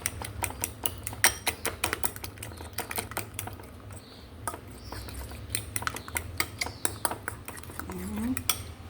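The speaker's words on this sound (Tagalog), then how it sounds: "And then, we mix it." Eggs seasoned with salt and white pepper are beaten in a bowl, a rapid, close clatter of utensil strikes against the bowl in quick bursts, pausing briefly midway before resuming, with no talk.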